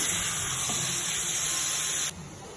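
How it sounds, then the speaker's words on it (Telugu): Shrimp frying in a pan for a Telugu prawn and okra pulusu, a steady, bright sizzling hiss that holds evenly, then drops slightly softer near the end, with no one talking over it. "కొంచెం సేపు వేయించుకోవాలి."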